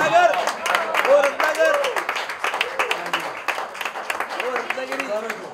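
A crowd applauds at an album audio launch, dense clapping running throughout, with a voice speaking over it.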